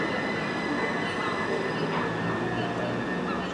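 A train at Southampton Central station rumbles steadily with a broad, continuous roar and faint wheel squeal, close and loud throughout.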